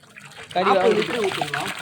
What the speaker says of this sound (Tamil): இப்போ 25 லிட்டர் தண்ணி ஊற்றுறீங்க